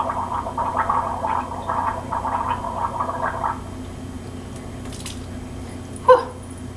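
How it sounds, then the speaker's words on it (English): Someone gargles salt water for a sore throat, a close, bubbling, wet rattle lasting several seconds, then a pause, a faint spit or splash and a short gulping click. "You're not going to swallow this, you're just going to gargle. I'll gargle for you."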